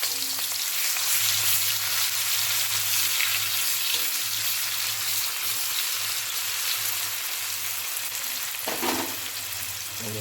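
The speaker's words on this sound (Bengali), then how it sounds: "তেলটা গরম হয়ে গেছে, এবার প্রথমে পেঁয়াজটা দিয়ে দেব।" Onion frying in hot oil for a Bengali lau (bottle gourd stem) dish, a steady close sizzle running the whole time with a low stove hum beneath and a brief stir near the end, no talk.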